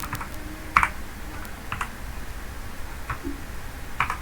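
Computer keyboard in a spreadsheet session, a few sparse, sharp key clicks spaced across several seconds, with a firmer press for the enter key, close and fairly quiet.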